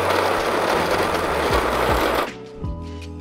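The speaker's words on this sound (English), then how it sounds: "I'm gonna grind these about medium fine on my home grinder here." A home coffee grinder grinds Peruvian coffee beans to medium fine with a loud, steady whirring buzz that stops abruptly, leaving a brief mechanical rattle.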